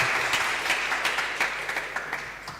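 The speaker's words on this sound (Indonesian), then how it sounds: "Beri aplaus." Sustained audience applause fills a doctoral graduation ceremony hall, a steady crowd clapping with scattered sharper claps, loud and continuous throughout.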